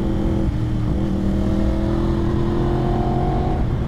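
A 2022 Yamaha R1 with a fresh ECU flash tune pulls hard under acceleration, a loud, steady engine drone with rising pitch and wind rush from on the bike, no talking.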